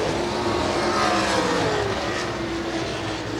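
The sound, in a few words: sprint cars racing around quarter-mile speedway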